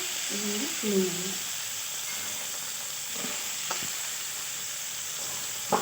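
Vegetables fry in hot oil for shukto with an even, steady sizzle throughout, moderately quiet, while a brief voice is heard near the start and a few soft utensil taps follow.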